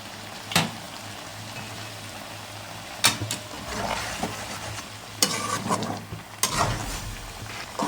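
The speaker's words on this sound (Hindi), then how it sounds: "अब इसमें जो टमाटर हमने पीस के रखे थे ग्राइंडर में वो डाल देंगे और 5 से 10 मिनट के लिए इसको हाई फ्लेम पर भून लेंगे" Ground tomatoes frying with chicken liver on high flame in a pan: a steady low sizzle, broken by several sharp scraping knocks as the mixture is stirred, with no voices.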